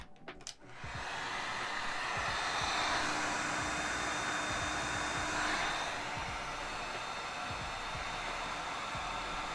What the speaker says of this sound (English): we're gonna heat these both up with a heat gun